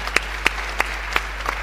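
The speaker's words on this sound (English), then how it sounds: "A warm round of applause for all our panelists." Applause from a conference audience for a panel of speakers at a trade forum, a short spell of sparse, separate hand claps, about five distinct claps at a steady rhythm, moderately close with no talking.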